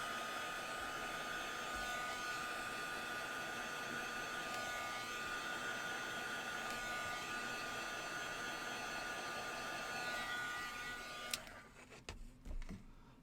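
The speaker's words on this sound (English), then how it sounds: "I'm gonna go ahead and heat the center a little bit, just a little bit." A heat tool blows steadily with a constant whooshing hum while warming the center of a folded paper craft bloom book, running loud and unbroken for about eleven seconds before cutting off into a few faint handling knocks.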